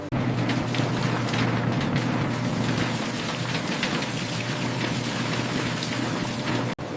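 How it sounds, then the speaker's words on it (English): Water sprays and rinses sliced potatoes on a conveyor in a potato chip factory, a steady, dense hiss of splashing and pattering that runs unbroken and fairly loud throughout. "Once the potatoes are sliced, they move along the conveyor for a final rinse before heading to the next step."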